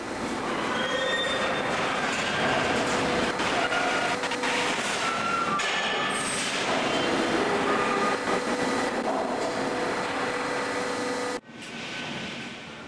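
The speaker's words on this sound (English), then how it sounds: "When empty, the wagon is then rotated back onto the rails." An empty rail wagon is rotated back onto the rails at a terminal, giving loud continuous metallic grinding and squealing with scattered clanks and tonal whines, ending in a sudden cut and a quieter rumble.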